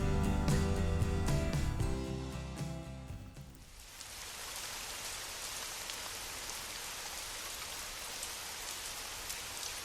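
A few seconds of music fade into a steady, dense downpour of heavy rain hissing continuously on surfaces, loud and close.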